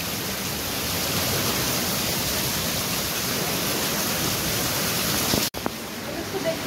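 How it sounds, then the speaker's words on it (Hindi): A dense, even hiss of heavy rain pours down without letup, with a short break and scattered drips near the end. "बारिश हो रहा है।"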